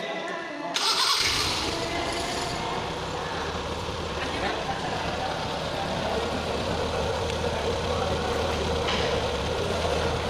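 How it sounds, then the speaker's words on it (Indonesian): A Toyota 4K engine cranks and catches during a tune-up, then settles into a steady, loud mid-pitched idle that runs on unbroken, with a person speaking over the engine. "Nyalakan mesinnya."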